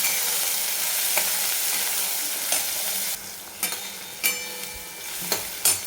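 Spice paste frying in hot oil with bloomed cumin seeds in a pan for a spicy brinjal masala, a soft continuous sizzle broken by a few sharp scrapes and stirring knocks toward the end.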